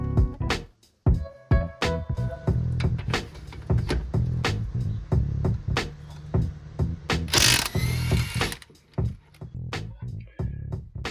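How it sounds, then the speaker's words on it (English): A ratchet works loose the large trailing arm bushing bolts on a BMW E46 328Ci, giving close bursts of rapid clicking between pauses, knocks of metal, and a brief hissing spray partway through. "So here we are removing the main trailing arm bushing bolts, the big ones."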